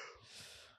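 A person yawns late at night after watching a film, a brief soft breathy exhale heard alone.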